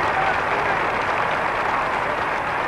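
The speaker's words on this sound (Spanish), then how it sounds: "Fuerte ovación en el descenso del féretro" A crowd gives a loud, sustained ovation as the coffin of Don Juan de Borbón, Count of Barcelona, is lowered at his funeral. Dense, continuous clapping and cheering hold steady throughout.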